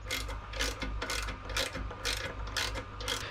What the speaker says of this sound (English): I'm going to go ahead and take off the one bolt holding my gas tank on here, which is also another 8mm bolt